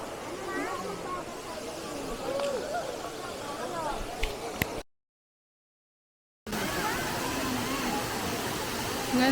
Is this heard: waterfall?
yes